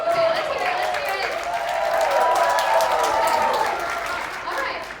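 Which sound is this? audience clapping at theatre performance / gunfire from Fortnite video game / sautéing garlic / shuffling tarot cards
audience clapping at theatre performance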